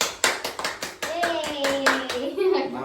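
Hands clapping in a new house as milk boils over, about eight sharp, close claps in an even rhythm, with voices, including a child's, speaking and calling out over the later claps.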